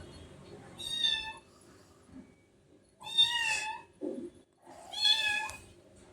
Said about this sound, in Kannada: ಬೆಕ್ಕಿನ ಮರಿಗ ಅವಳೇ ಈಗ ಸೌಂಡ್ ಮಾಡ್ತಿದ್ಲು ವಾಯ್ಸ್ ಓವರ್ ಕೊಡ್ಬೇಕಾದ್ರೆ